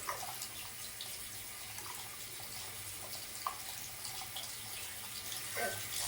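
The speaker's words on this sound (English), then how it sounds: "You have the tumbler, turn on the water. Let the water run over it first." Water running from a sink tap over a tumbler, a steady close splashing stream with small irregular spatters throughout, no voices.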